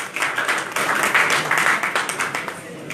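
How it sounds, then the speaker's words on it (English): Applause from an audience at a political event with a presidential aspirant at a Port Harcourt hotel: dense, continuous clapping that holds steady for a few seconds with faint voices underneath. "please just give yourselves a round of applause"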